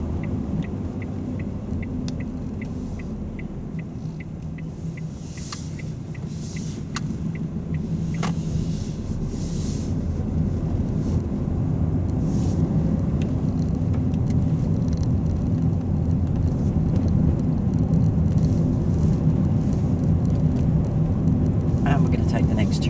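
A car's engine and road noise rumble steadily from inside the cabin as it drives and turns, growing slightly louder, while people talk over it.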